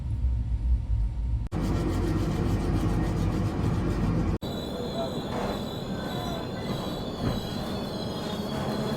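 Sealdah SF Express passenger train rolling on rails, a loud continuous rumble with squealing wheels and rattling carriages, heard from on board with abrupt shifts in tone.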